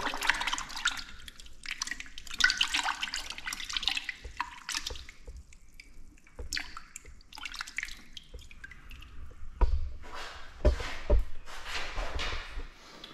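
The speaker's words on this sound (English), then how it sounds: "Going to take the screen and put it in my water." Water sloshes and drips in short bursts as a Graco Truecoat 360 spray gun screen is swished and rinsed in a container of water, close by with quiet pauses between.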